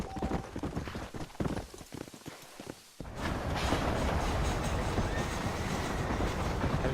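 Horse hooves clip-clop steadily while riding in the video game Red Dead Redemption. A brisk, close rhythmic trot is joined after a brief dip by a denser, louder rolling rumble of travel noise.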